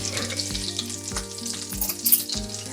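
Hoecake batter frying in a hot pan from a Paula Deen recipe, crackling and spattering in a continuous close sizzle, with low thumps recurring about every half second.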